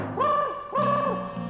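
A two-note owl-style hoot, actually a voice imitating an owl as a signal, sounds twice in quick succession, each call a sustained tonal hoot rising then falling, fairly close and clear with no talk over it.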